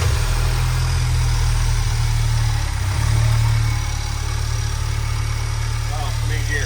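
Honda Civic Type R engine settling into a steady, loud idle after startup, a low continuous rumble that briefly rises in the middle, with voices talking faintly over it.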